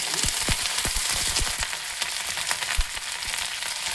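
Curry leaves and green chili hit hot oil with fennel seeds already in the pan, giving a loud, close, continuous sizzle with bursts of crackling pops throughout.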